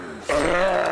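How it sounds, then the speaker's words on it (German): A hostile dog growls in the video game Gothic 3, a harsh snarl that starts abruptly and holds steady and loud for under a second, close up. "Blöder Hund."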